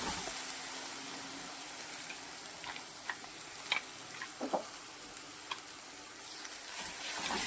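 Ingredients sautéed for a few minutes in a pan while cooking besan-ball amti: a steady, close sizzle and fry hiss runs throughout, with a few sharp scrapes and clinks of a spatula stirring, no talking.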